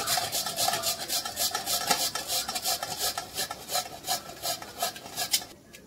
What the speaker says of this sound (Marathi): आता बटाटे आपण किसून घेतोय।